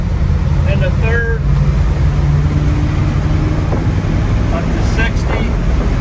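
A 1977 International Scout's engine pulls hard through the gears on a test drive, a loud steady drone mixed with wind buffeting while someone talks over it throughout.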